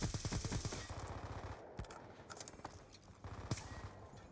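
SCAR rifle firing in Call of Duty Black Ops 2 multiplayer, a rapid burst of automatic shots at the start followed by scattered sharper single cracks and distant game noise.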